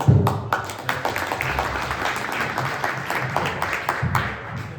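Audience applause for panel members at a congressional roundtable on tariffs, a dense burst of many hands clapping close by, strongest at the start and continuing steadily for several seconds.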